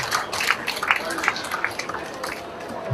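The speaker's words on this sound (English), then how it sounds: "Give Father Wisdom also a round of applause." A church congregation claps during a Thanksgiving Mass for a parish's 50th anniversary, a brief scattered burst of hands that thins out, with some crowd noise mixed in.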